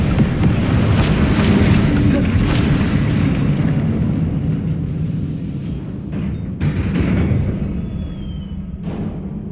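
Fiery Confringo and Incendio spell blasts in Hogwarts Legacy, a run of booming bursts and crackling detonations close by, loud and continuous with sharp pops breaking through, no talk.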